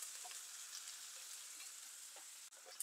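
Onions sautéing in olive oil with constant stirring, making a soft, steady sizzle with light scraping of a spoon in the pan, faint and close, without speech.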